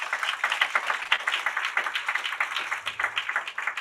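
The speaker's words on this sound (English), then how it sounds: "So give Primerica a round of applause for that." A crowd at a Super Saturday business meeting applauds, a steady flurry of overlapping hand claps at moderate volume that keeps up with a fairly even rhythm.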